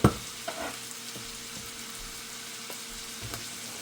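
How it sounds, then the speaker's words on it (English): Beef, potato and pepper casserole mixture with cooked rice being stirred together in a pan, giving soft scraping and faint sizzling, with a small clack at the start and scattered light knocks against steady background hiss. "So we're gonna go ahead and we're gonna stir all this in together"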